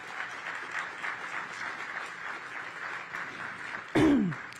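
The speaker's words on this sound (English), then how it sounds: "Give him a big round of applause." A crowd at a groundbreaking for the Sycamore & Oak community space in Congress Heights applauds Councilmember Trayon White with moderate, somewhat distant clapping, ending with a brief loud voice close to the microphone.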